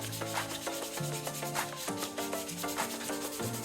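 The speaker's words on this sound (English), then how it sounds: "now I'm actually going to hand sand with 220 grit" A basic 220-grit sandpaper sheet is rubbed by hand over scrap wood for a phone stand, making close, rhythmic back-and-forth rasping strokes that run steadily without talk.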